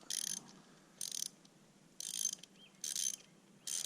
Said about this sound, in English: we're going to take these bolts out